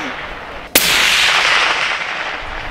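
A single sharp gunshot cracks out at a target range, loud and close, and its echo and rumble ring on for about two seconds afterward.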